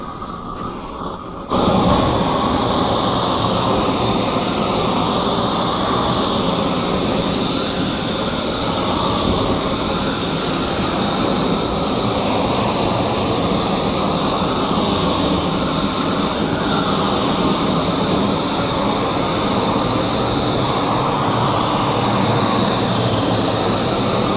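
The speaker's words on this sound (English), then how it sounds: "this is what we're using to burn the boards. It's a little torch setup from Harbor Freight" A Harbor Freight propane torch burning wooden fence boards, a loud steady roar that starts abruptly after a short quiet moment and holds without a break.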